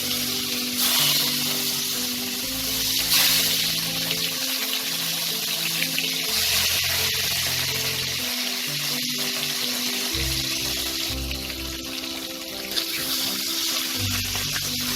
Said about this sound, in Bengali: এবার এতে আমি মাছগুলোকে হালকা ফ্রাই করে নেব।